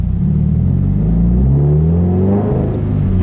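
A Subaru BRZ with a manual gearbox pulls away under light throttle and gentle clutch engagement, its engine rumbling steadily and rising smoothly in pitch as it moves off, close and continuous throughout.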